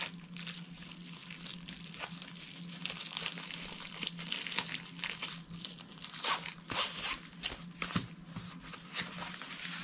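Plastic packaging around a canvas is cut and pulled open, close-up crinkling, crunching and tearing in irregular bursts over a faint steady hum, with no talk.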